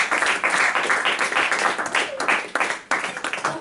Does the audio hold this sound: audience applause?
yes